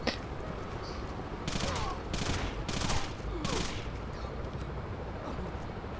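Bursts of automatic gunfire from Rainbow Six Vegas crackle in four short, loud volleys over a steady background of game ambience, spaced roughly half a second apart.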